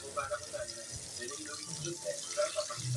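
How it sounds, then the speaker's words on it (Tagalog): Coconut milk is poured into a pan of tilapia, giving a soft, continuous liquid trickle and splash that stays close and fairly quiet throughout. "ibubuhos na po natin yung gata"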